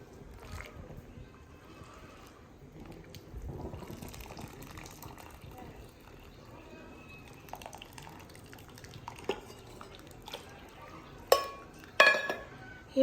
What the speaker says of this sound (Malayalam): അങ്ങനെ ചോറ് ഊറ്റാണ് കേട്ടോ.